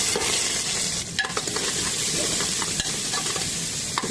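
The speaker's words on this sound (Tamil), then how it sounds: "எண்ணெய் காஞ்சோனே ஒரு கொத்து கருவேப்பிலை, சின்ன வெங்காயம் எடுத்து க்ளீன் பண்ணி வச்சுக்கலாம்" Curry leaves and small shallots sizzle loudly in hot oil for a mutton gravy, a dense, constant crackling hiss with scraping stirs and light pops close by.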